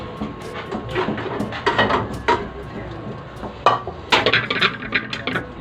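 Frying pan being pulled out and handled in a home kitchen, a series of metallic clanks, scrapes and knocks in irregular bursts, close and fairly loud.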